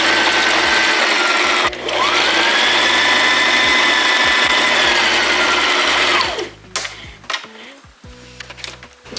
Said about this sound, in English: we're just doing a straight stitch literally all the way around the perimeter